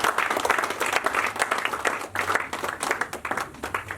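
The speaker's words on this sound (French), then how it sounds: "Acclame Jésus, acclame le Seigneur." A church congregation applauding during a French-language evangelistic service, dense sustained clapping from many hands filling the whole stretch, loud and close, with no clear speech over it.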